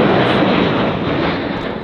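An airplane passes overhead near a racetrack, a loud, steady broadband engine roar that fills the whole short stretch without pause.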